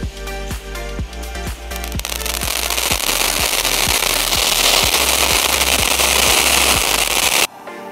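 Sivakasi firecrackers go off in a quick string of sharp, loud bangs that builds into a dense, continuous crackling burst, close by and alone, then stops abruptly.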